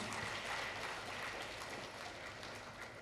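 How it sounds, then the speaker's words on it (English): Steady, dense applause from a crowd encouraging students at a ceremony, sustained at an even level for a few seconds with no talking. "All of you can clap and encourage our students."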